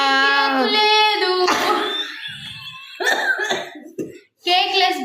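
A child at home coughs a few times at night, with short harsh bursts. Sung and spoken children's voices come before and after them, and there is a brief quiet gap near the end.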